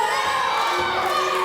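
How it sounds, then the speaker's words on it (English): Ringside fans at a wrestling show shout and cheer loudly as one continuous roar of crowd noise with no clear talk. "And Kendo there, King Kendo, really not appreciating the noise of the ringside fans."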